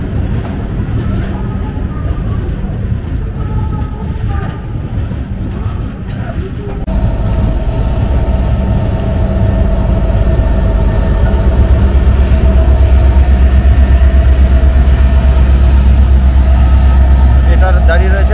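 A train pulls into Bhubaneswar Junction, a station under construction, with a loud, steady rumble of rolling wagons and wheels that grows heavier and more sustained as it slows, with no clear talk.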